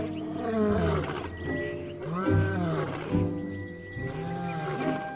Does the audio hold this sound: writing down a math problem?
no